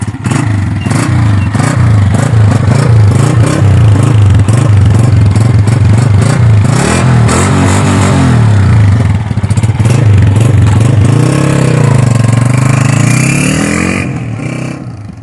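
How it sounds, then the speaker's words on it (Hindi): Honda CG125 single-cylinder motorcycle engine thumping while riding, loud and close, with pitch rising and falling through gear changes and acceleration, plus wind and mechanical clatter, fading slightly at the end. "इसकी राइड लेते हैं और आपको इसका साउंड भी सुनाता हूँ"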